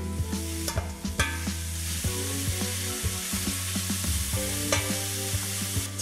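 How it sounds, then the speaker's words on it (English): Meat browning in a skillet, a loud steady sizzle close by with repeated scrapes and knocks of a utensil stirring it around, no voices. "I'm going to go ahead and let this brown for you, and I'm going to continue to stir it around so that it doesn't stick"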